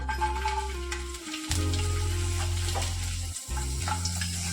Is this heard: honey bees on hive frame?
no